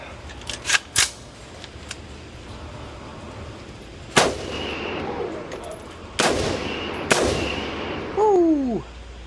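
Several sharp, loud rifle shots from a custom AR-15 fitted with a Barrett .50 cal muzzle brake, with short echoing tails. They come in an irregular series, the last followed by a voice.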